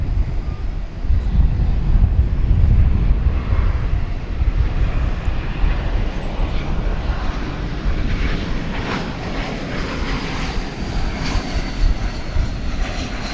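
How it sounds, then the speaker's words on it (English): A 26-year-old airliner arriving at DFW Airport at night from Toronto, its engines a loud, broad, sustained roar mixed with wind buffeting the microphone. "So a 26-year-old aircraft there, coming in from Toronto"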